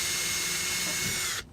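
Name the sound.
drill boring through a boat brush pole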